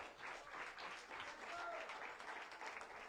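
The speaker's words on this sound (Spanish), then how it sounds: "Dele fuertes ofrendas de palmas al Señor." A church congregation claps steadily throughout, a dense, even wash of applause close by during a worship service, with no speech over it.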